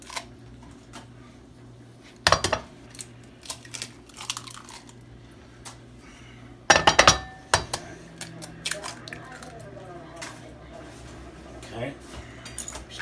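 A bowl of simple egg wash is mixed for encrusted boneless chicken thighs, with scattered clinks and taps of a utensil against the dish, a couple of louder clatters, and quiet kitchen background.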